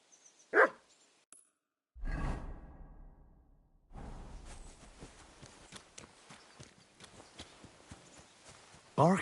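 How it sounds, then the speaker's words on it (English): A dog barks in the medieval open-world game Kingdom Come Deliverance 2, with sharp yelps near the start and end and hoofbeats and rustling movement in the middle stretch. "Barking."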